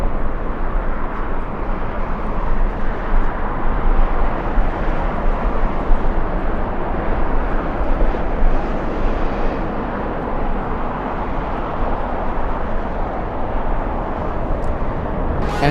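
An Embraer E175 regional jet arriving at LAX in strong wind, heard as a steady, loud broadband roar that holds evenly throughout with continuous gusty rumble beneath and no voices.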